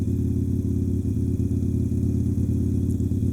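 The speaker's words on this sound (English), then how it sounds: "I guess I'll rev mine while we're in the tunnel" Motorcycle engine revving inside a tunnel while riding near Lake Monroe, a steady loud low rumble that pulses slightly throughout, close and alone without talking.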